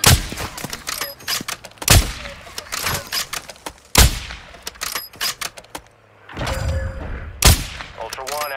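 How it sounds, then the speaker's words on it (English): Gunfire in the Call of Duty Warzone 2.0 DMZ video game: repeated sharp bursts and single loud shots break out at irregular intervals across the clip, with rattling automatic fire between them and a brief stretch of radio-style voice. "You are taking effective fire."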